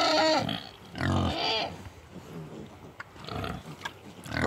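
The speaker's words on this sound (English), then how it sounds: "There's the little piggies." Little pigs out in a field grunt and squeal in several close bursts, with quieter snuffling between them and a brief voice in the background.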